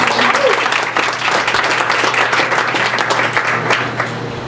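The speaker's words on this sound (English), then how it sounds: "Can I have a round of applause for him?" Wedding guests applauding during a reception speech, a loud, dense burst of clapping from a crowd that holds steady for several seconds before easing slightly.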